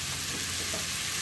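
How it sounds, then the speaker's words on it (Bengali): Mushroom curry with potato and garam masala sautéing in a pan, giving a dense, even sizzle that stays constant throughout at close range. "ভালো করে কষাবো।"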